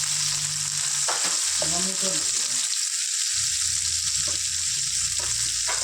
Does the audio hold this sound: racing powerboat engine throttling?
no